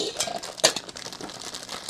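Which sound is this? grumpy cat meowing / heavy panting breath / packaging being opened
packaging being opened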